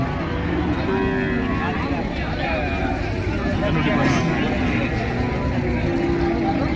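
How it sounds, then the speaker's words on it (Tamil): Cattle low at the busy Manapparai cattle market, with moos rising over dense crowd babble and nearby talk, while a constant outdoor rumble continues underneath. "பாருங்க எல்லாம் மாடு வந்துட்டு இருக்கு பாருங்க"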